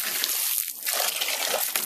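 Running water pours steadily for a moment, a loud continuous splashing flow close by with brief dips in level.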